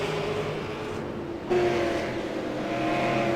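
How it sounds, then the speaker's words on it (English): Super Late Model race cars roar through a turn at Stafford, a steady, loud engine drone from several cars together with a brief dip and a sharp rise as the pack passes. "And a slurry of cars through turn 2 into the backstretch"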